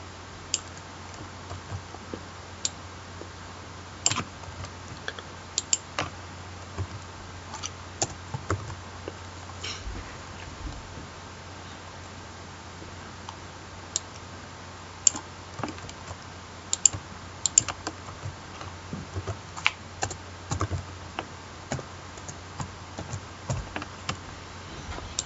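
Keys clatter in scattered bursts of soft clicks as code is typed on a computer keyboard during a C programming lesson, with irregular pauses and no talk over a faint low hum.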